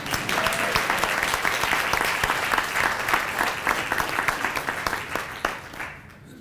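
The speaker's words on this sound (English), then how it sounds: "You can clap for that." At a Babylon town board meeting, people in the room clap after a resolution passes, a sustained round of many hands that holds steady and then thins out and fades near the end.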